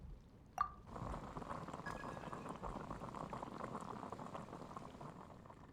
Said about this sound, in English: What exactly are we boiling water for?